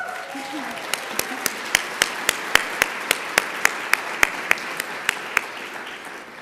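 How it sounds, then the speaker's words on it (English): Steady applause from an audience, a continuous wash of many hands clapping with a few sharper claps standing out at a regular pace. "let's give you an extra round of applause by yourself"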